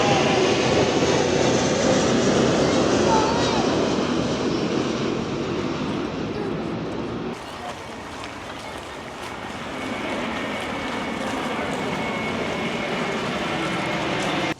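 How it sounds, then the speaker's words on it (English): An airplane roars steadily overhead beneath a flight path by the Potomac River, a loud broad rumbling drone that eases slightly midway and then swells again, with no talk. "we're right under the flight path. So the whole time we're here, they're going to have airplanes going overhead."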